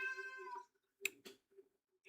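A cat meows once in a long, drawn-out tone, then a few short, sharp sounds follow after a pause. It is fairly close and clear against a quiet background with no talk.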